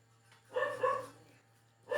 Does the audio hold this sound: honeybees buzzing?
no